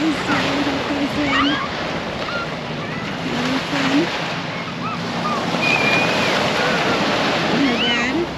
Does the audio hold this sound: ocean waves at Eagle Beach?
yes